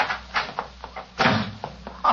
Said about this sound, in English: She slammed the door in my face.